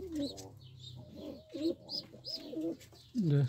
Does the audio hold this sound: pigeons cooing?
yes